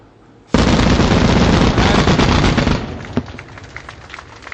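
Military artillery and guns open fire at a target during a Pakistan Army Raad al Barq exercise, a sudden loud sustained barrage of blasts lasting a couple of seconds, then fading into scattered distant shots and rumbling echoes.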